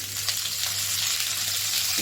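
Small potatoes fry in a pan with a little salt and turmeric, giving a steady, close hiss and crackle of oil that holds evenly throughout with no talking.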